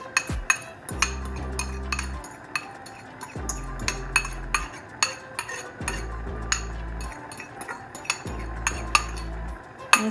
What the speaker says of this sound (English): I'm just gonna mix that in.